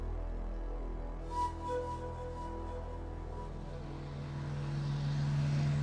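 Cessna 180 aircraft engine drones steadily in flight, a low continuous hum heard from inside, with a brief bump partway through.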